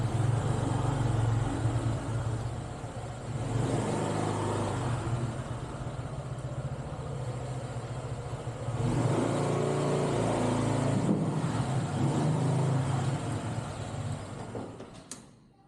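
Vehicles roll into a rear parking lot on a motorcycle ride from Malang to Jogja. A steady engine hum and road rumble run throughout, rising and easing slightly, then fade out at the end.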